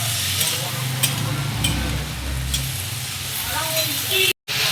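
A vegetable curry of drumsticks with mustard and poppy seed paste stir-fries in a pan after a splash of water, making a continuous hissing sizzle with spoon scraping and a brief dropout near the end.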